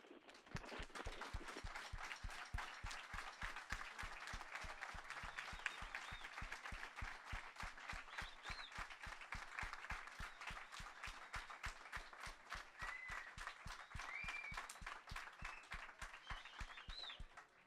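Sustained applause from an audience at a school event for an amateur radio contact with the International Space Station, steady rhythmic clapping continuing evenly for the whole stretch at moderate distance.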